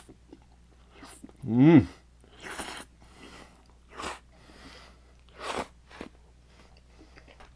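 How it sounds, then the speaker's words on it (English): Teriyaki mushroom noodles with sesame being slurped and chewed at close range, a few short wet bursts spread across several seconds, with a brief appreciative hum from a voice partway through. "who's sucking the noodles in?"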